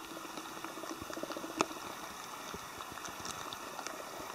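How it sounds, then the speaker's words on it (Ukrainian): Rain falls on a forest route during a Polissia marathon, a dense, faint, continuous patter with occasional sharper drops and no talking. "Дощик зараза від нас не відстає."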